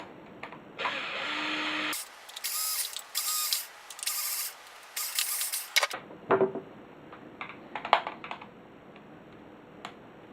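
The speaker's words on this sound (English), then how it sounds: "I'm just going to do them part way and then just finish them off with a hand screwdriver." An electric screwdriver drives screws into an RC trail truck chassis, giving loud whirring bursts with short pauses, followed by quieter clicks and ratcheting taps of a hand screwdriver finishing the screws nearby.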